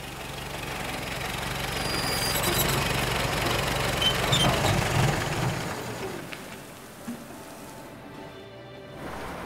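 A taxi in the game Lost Horizon idles with a low, rough rumble that swells slightly and then fades out, with no one speaking.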